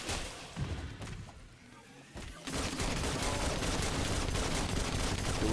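Gunfire and explosions in a video game arena, bursts of rapid shots and booming blasts that swell from scattered pops into a dense, continuous barrage.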